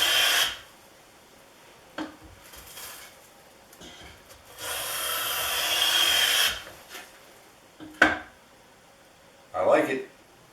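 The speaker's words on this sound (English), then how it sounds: "It's really weird to have a plane that is so light, but it effortlessly cutting these 1 5/8 inch wide shavings" A light hand plane shaves see-through wood shavings about 1 5/8 inches wide, giving several brief rasping strokes with quiet gaps between them, close and fairly loud.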